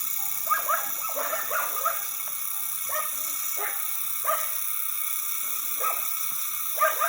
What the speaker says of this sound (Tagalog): Tinatawalan tayo ng mga aso sa baba.